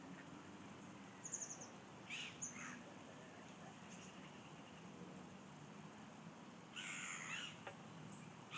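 Crows caw a few times from a distance over steady outdoor ambience beside a carp fishing lake in the UK, with short bursts of calls spaced out across the scene.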